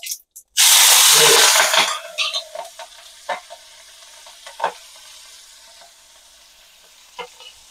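Asafoetida, cumin, green chili and curry leaves hit hot oil with a loud burst of sizzling and spitting, then the frying quickly settles to a softer crackle with a few scattered pops and stirring clicks.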